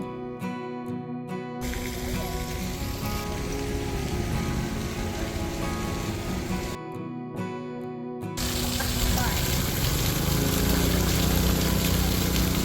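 Fresh water pours steadily from an outdoor rinse shower at an East Coast ocean beach, a continuous splashing hiss that swells louder toward the end, with brief moments where the background drops away.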